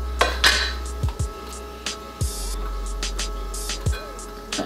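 A kitchen knife chops bell peppers on a cutting board in a home kitchen, giving a series of irregular sharp knocks and clinks close by over a low steady hum, with no one talking.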